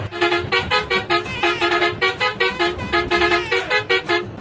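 A loud, harsh vehicle horn honks repeatedly in quick rhythmic bursts, close by, over a rumbling engine.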